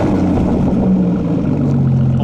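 Aston Martin Vanquish fitted with a Larini exhaust, a loud, steady low engine drone that stays close and constant throughout.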